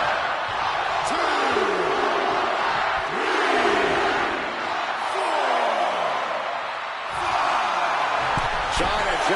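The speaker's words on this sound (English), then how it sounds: "China drawing big reaction from the crowd." A virtual arena crowd in the wrestling video game WWE2K25 roars and chants through a match at WrestleMania Lagos, with steady loud crowd noise and repeated booming impacts or pulses cutting through.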